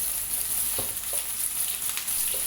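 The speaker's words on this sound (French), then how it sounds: "Je mets les oignons coupés et les piments végétariens dans la poêle." Chopped onions and vegetarian peppers frying in a pan, a steady close sizzle with crackling bursts and a few soft stirring knocks, no voices over it.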